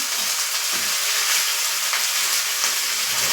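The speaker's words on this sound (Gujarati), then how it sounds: "હવે આપણે ગેસ બંધ કરી આ વઘાર છે તે ખીચડીમાં એડ કરીશું" Loud, steady sizzling and crackling as hot oil tempering is poured into khichdi, a continuous bright hiss with small bursts throughout.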